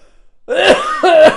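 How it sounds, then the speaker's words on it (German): Someone coughs twice in quick succession, loud and close, harsh and throaty, after a brief near-silence. "mein Husten kommt von Impfungen auch"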